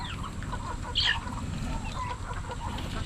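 Free-range laying hens outdoors give a short burst of clucking about a second in, faint against a steady low background hum.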